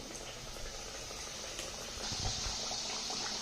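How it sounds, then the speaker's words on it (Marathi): Kachoris deep-frying in hot oil, a dense bubbling, frothy hiss that swells and grows louder halfway through, with no voices. "आता यामध्ये या कचोऱ्या आपल्याला तळून घ्यायच्या आहेत."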